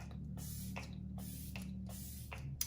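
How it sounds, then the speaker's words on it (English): Flower Beauty hydrating setting spray hisses from a pump bottle in several short bursts, close and soft, evenly spaced over a quiet room hum. "We're just gonna finish off with some setting spray. This is the Flower Beauty hydrating one."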